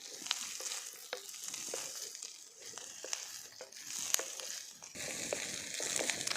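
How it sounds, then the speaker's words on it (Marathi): Ivy gourd (tondli) sizzles and crackles in a frying pan, with a continuous low hiss and scattered sharp pops and stirring clicks nearby. "चांगले असे डाग पडू तर मस्त तळून घ्यायचे"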